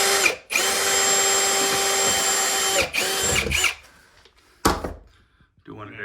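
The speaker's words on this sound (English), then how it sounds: "we have to drill some holes at the stud locations" Power drill boring holes at stud locations during a shower pan remodel, a loud close whine running for several seconds, stopping, then a shorter burst and a quick final run, followed by clunks and brief talk.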